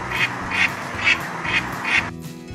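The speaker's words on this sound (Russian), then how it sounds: "Это уточки. Они крякают." A duck quacks five times in an even, steady rhythm, each quack short and clear at close range, then a soft hum remains, as farmyard ducks in a children's cartoon.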